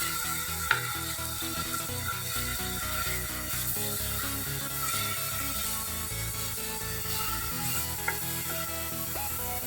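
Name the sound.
onions frying in a pan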